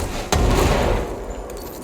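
Gunfire and environmental destruction in the action video game Control: a sudden heavy blast followed by a dense wash of crumbling, shattering debris that slowly fades.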